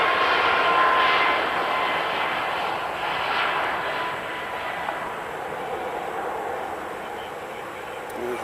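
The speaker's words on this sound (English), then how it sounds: "As you see WestJet getting pushed back." A WestJet airliner is pushed back at Nashville International Airport, with a loud continuous jet engine whine and rumble heard from outdoors at a distance, steady and slowly fading.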